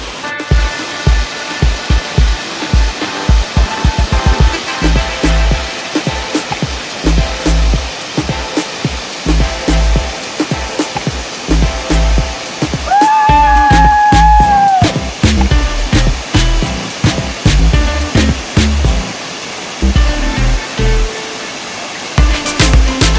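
A steady, roaring rush of falling water at the Nercheppara waterfall fills the whole stretch without pause, with a brief whistling tone rising over it midway.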